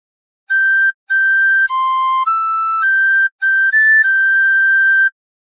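Tin whistle playing a short phrase of God Defend New Zealand, a clear, bright series of sustained notes with a few short breaks between them, close and solo.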